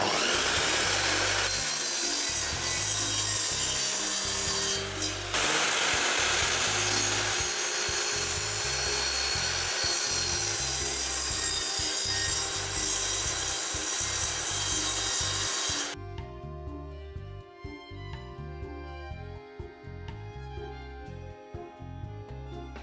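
A hand miter saw makes a light first pass, then cuts through wood in long, rhythmic back-and-forth strokes, close by, then the sawing stops and a faint ringing remains.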